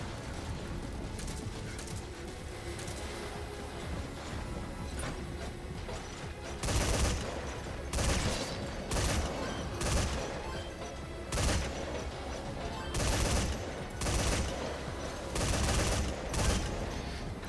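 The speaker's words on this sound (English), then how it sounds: "There is a machine gun." Machine gun fire in Metal Gear Survive, repeated bursts of rapid shots in uneven clusters over a steady background rumble, fairly near.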